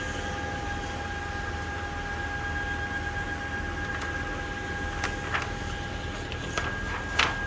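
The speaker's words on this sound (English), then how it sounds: "Then we can start printing job and alignment. Then we start to print again." A FocusInc Acaleph-891S single-pass UV printer runs a print job with a steady, close mechanical hum and whir, with a few faint clicks toward the end.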